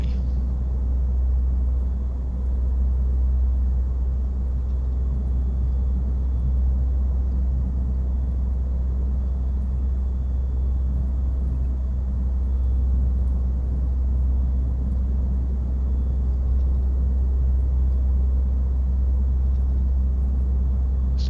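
A Pilatus PC-12 turboprop taxis in Microsoft Flight Simulator 2024, a constant deep engine rumble and drone holding steady throughout, with a faint thin whine above it.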